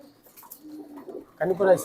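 A female racing pigeon coos softly in low, throaty bursts, growing louder near the end, while someone talks close by.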